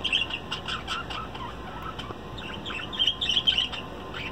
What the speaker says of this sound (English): They make a lot of noise.